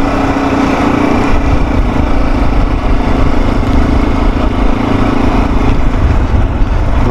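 RX3 motorcycle engine on a ride, a loud, close, steady buzzing drone at constant pitch with wind rush, holding level throughout with no talking.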